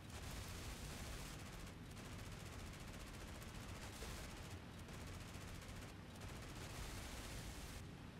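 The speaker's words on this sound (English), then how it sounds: "Those are shells flying over us." Sustained gunfire and shell bursts in the IL-2 Great Battles flight game during a He 111 bomber sortie, a dense continuous rattle of rapid shots with short gaps, loud and close throughout.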